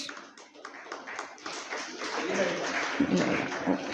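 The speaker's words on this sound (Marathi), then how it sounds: "टाळ्या टाळ्या वाजवा सगळेजण" Audience clapping at a prize distribution ceremony for a reading and calligraphy competition, a dense steady patter of many hands in a hall, building slightly louder toward the end.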